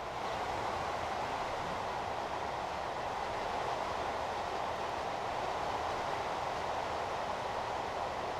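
Passenger and cargo trains running in Transport Fever: a continuous, broad rumble of rolling rail traffic holds steady and fairly loud throughout, with a dense hiss over it and no distinct horn or break.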